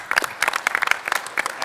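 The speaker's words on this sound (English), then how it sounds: "how about a round of applause for the DCD folks for pulling this together today?" A conference audience claps for the event organisers at an energy and data-centre roundtable, bursts of clapping rising and falling unevenly over a short stretch, fairly close.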